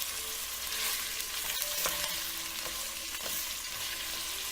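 Onion browning in extra virgin olive oil for a beef and pork ragù, a continuous hiss of frying with a few sharp taps and scrapes from stirring, close and without talk.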